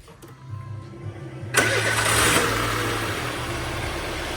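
Peugeot 206 car engine cranking and catching, with a low starter whir and faint clicks before a loud burst as it fires, then settling into a steady, fairly near idle.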